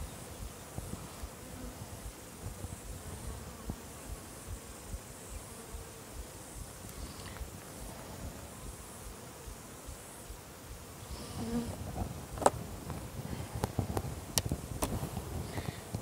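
Honey bees buzz around an open hive during a sugar shake mite check, a steady close hum of many bees with a few sharp clicks and handling sounds toward the end.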